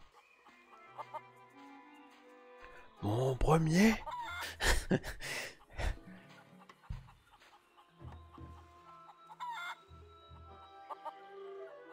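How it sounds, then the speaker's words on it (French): Chickens in the point-and-click game The Curse of Monkey Island cluck in short, loud, repeated bursts midway through, with sparse game tones and someone speaking French around them. "Il y a des poulets partout."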